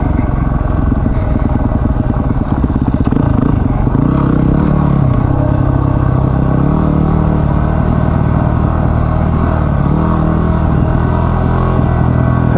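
A Yamaha WR250R dirt bike rides through Warro National Park in Queensland, its single-cylinder engine close and loud, revving and easing continuously as it moves over the trail, with no talk.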